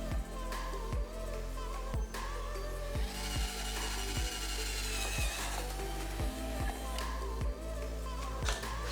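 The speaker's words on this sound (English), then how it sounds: "we're going to drill a couple holes and replace it here instead" A power drill bores holes to mount a tire pressure monitor on a BMW wheel liner, sounding as a series of repeated short whirring bursts with sharp starts and stops, close up over a steady low hum.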